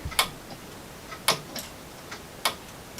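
3D printed planetary gear clock ticking with sharp, distinct clicks about every second, alongside fainter cracking snaps from the gears, close and quiet in a still room with no talk.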